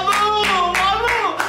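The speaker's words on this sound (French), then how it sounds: "Applaudir tout le temps." Hands clap in a cinema, about four quick claps in a short burst, close and loud, while a voice sounds over them.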